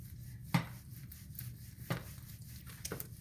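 A knife cuts into a cooked, well-done tomahawk steak with three separate sharp chops against a board, spaced about a second apart, faint under a low background hum.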